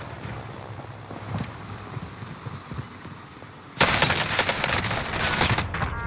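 Gunfire in Call of Duty Warzone, a dense burst of rapid shots erupting loudly midway after quieter ambient game noise and scattered distant pops.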